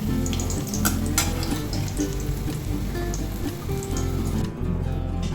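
Bitter gourd pieces fry in hot oil in a pan, a dense continuous sizzle with some stirring and clatter, steady and close throughout.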